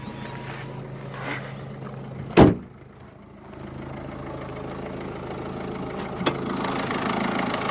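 A 1.6 liter turbo diesel four-cylinder engine idles with a steady low rumble, broken by a single loud thump like a door or hood closing, then continues evenly idling close by, with no talking.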